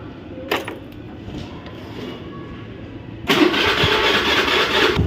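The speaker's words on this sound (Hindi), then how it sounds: "आज गाड़ी हो चुकी है हमारी चालू" A vehicle engine cranks and catches midway through, then runs with a loud, steady idle after a quieter stretch of background noise.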